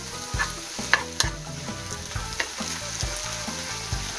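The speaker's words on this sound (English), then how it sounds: "Continue stirring and let them cook for like 1 minute." Onions and tomatoes cook in a pan for fries topping, a spatula scraping and stirring in repeated strokes over a steady close sizzle, with no voices.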